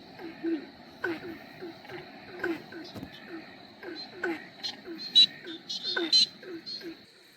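A desert tree frog (Litoria rubella) calls at night beside a parked car in Central Queensland. Its short, whooping notes repeat in a steady rhythm, close and moderately loud, while people whisper nearby.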